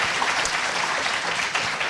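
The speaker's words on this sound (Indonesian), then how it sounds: "Kita berikan aplaus sekali lagi." A studio audience claps steadily on a Kick Andy talk show set, dense continuous applause filling the whole stretch without a break.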